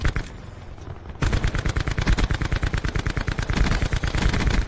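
Rapid automatic gunfire from the video game Black Ops 4, a quiet lull followed by a dense, loud stream of shots in steady rhythm that runs to the end.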